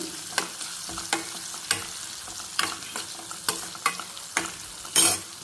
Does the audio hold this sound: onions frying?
yes